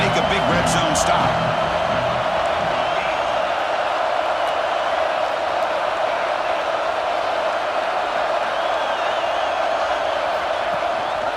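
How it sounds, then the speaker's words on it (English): Football stadium crowd noise at Penn State versus Iowa, a steady dense roar that holds loud and unbroken from start to finish as fans urge the defense on near the goal line, with some whoops early on. "And here comes the noise. This crowd is trying to inspire this defense to make a big red zone stop."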